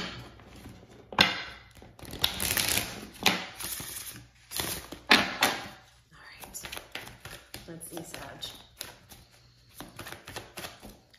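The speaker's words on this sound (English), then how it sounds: "So just a quick shuffle." Tarot cards shuffled in quick riffling bursts, crisp papery flutters rising and falling over about ten seconds, close by, with soft whispery rustles between.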